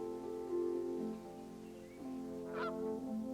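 Canada geese honk in a wetland, a few loud nasal calls rising over a steady low droning background, with one sharper honk near the end.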